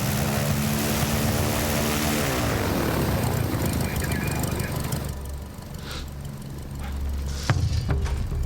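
A small hired propeller plane roars loudly at full power as it takes off, a steady droning engine that thins out partway through, leaving wind and scattered clatter.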